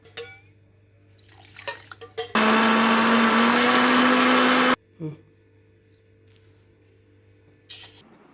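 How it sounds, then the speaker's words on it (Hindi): A mixer grinder whirs loudly for a couple of seconds blending papaya and ice cream, steady and close, with quieter kitchen clatter and faint sounds before and after. "अब इसको मिक्सर में डाल के इसको पीस लेते हैं"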